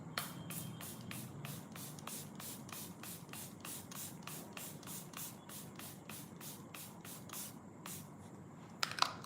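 A rapid series of short, hissy spray bursts repeats steadily for several seconds, close by, ending with a sharper clatter.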